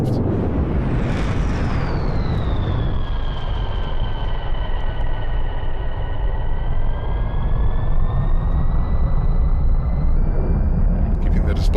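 A single aircraft roars through aerobatic display manoeuvres at an airshow, a loud continuous engine drone whose pitch sweeps down and then climbs slowly as it passes and banks away.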